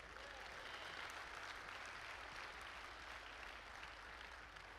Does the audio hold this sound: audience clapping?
yes